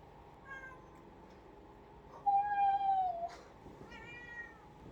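A cat meows several times, nearby and fairly clear. One long drawn-out meow stands out among shorter, softer calls, with no talking over it.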